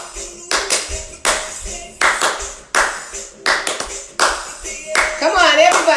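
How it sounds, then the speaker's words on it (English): A group of people claps hands together during a meditative art session, in loud, ragged bursts of dense applause broken by short pauses, with voices talking and calling out between and over the claps. "So, clap for me"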